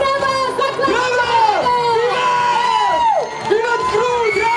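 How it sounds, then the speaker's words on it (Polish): A loud, close crowd at a stage performance of the play "Król Ik" greets the king with continuous cheering, shouting and high whoops, children's voices among them. "Oto on! Wielkie brawa!"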